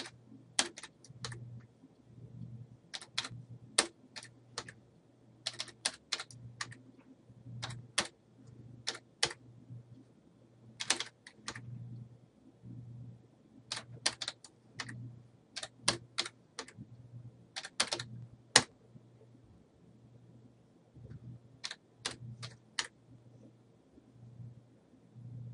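Quick bursts of keystrokes on a computer keyboard as lab data is entered for an RC circuit calculation, irregular clusters of clicks with pauses over a low steady hum, close and fairly quiet, no talking.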